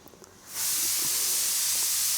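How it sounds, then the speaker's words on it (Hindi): Pressure cooker whistle blowing off steam in a home kitchen, a sudden loud, steady hiss that bursts in after a quiet moment and holds at full strength without letup. "हमारे कुकर की सीटी भी बज गई।"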